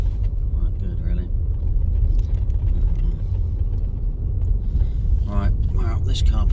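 A car pulls into an empty lakeside car park on a frosty day with a low, steady engine rumble and road noise from inside the cabin, while someone talks over it.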